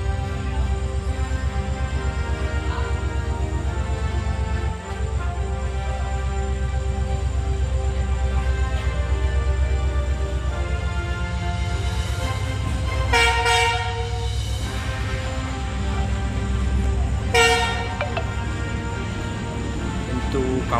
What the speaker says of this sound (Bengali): ট্রেন কিন্তু স্টেশন থেকে ছেড়ে দিল